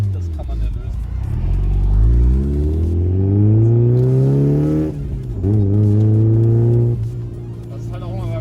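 A turbocharged Mazda MX-5 with a homemade exhaust drives and climbs steadily through the revs, drops back at a gear change, then pulls again, loud and close under a driver talking.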